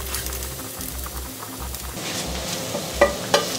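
An egg fries in sunflower oil in a pan, giving a continuous close sizzle with soft bubbling, and a couple of sharp utensil clicks near the end.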